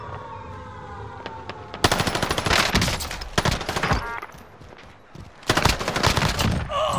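Rapid automatic gunfire from an MP40 in a shooter video game crackles in loud bursts, with dense volleys separated by short lulls and faint game audio between them.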